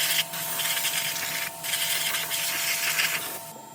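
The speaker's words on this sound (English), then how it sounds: "We're just gonna spray it down with some brake cleaner just to clean it all up." Brake cleaner sprays from an aerosol can onto the rear brake hub and rotor of a Lexus or Toyota car, a loud, steady close hiss broken by brief pauses between bursts.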